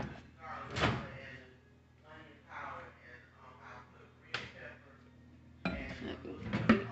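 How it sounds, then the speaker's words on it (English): Clatter of a dish of sweet corn being set into a microwave, then the microwave door thumping shut twice, with a voice talking quietly between the knocks. "I'm gonna put this into the microwave."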